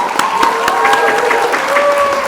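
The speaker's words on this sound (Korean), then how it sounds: "큰 박수 부탁드립니다." A seminar audience claps to welcome a lecturer to the stage, a moderately loud spread of claps with some sharp individual hits and a faint voice or tone running underneath.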